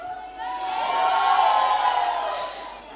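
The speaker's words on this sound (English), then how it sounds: "Can I get a cheer when you all are ready?" A crowd at a community day event cheers and whoops together, a swelling roar of many voices that rises, holds at full strength, then eases off.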